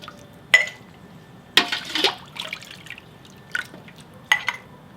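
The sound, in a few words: scooping boiled dry beans into warm jars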